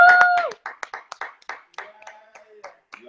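Claps from a small group during a livestream donation appeal, starting dense and overlapping with voices, then thinning into scattered separate claps with brief speech fragments between them.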